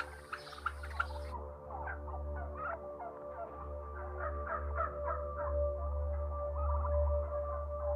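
Turkeys on a crowded factory farm, a flock gobbling and calling in overlapping bursts, moderately close over a steady low mechanical hum from the barn.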